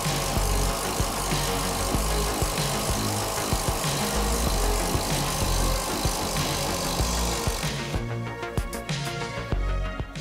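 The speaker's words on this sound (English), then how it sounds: "let's go drill some more holes in the wall" A power drill fitted with a spade bit bores into a house wall for a home network closet, giving a steady, loud, close whirring grind that runs nearly the whole time and shifts in tone near the end.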